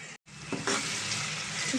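Native country chicken curry sizzles and fries in a pan, a steady close hiss broken by a short silent gap near the start and a few stirring scrapes.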